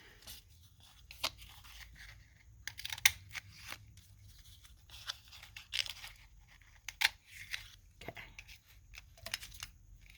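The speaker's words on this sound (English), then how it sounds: "So I'm going to cut my hearts from here." Paper hearts being cut with scissors: repeated soft snips and paper crunches at close range, irregular and fairly quiet, with faint rustling between cuts.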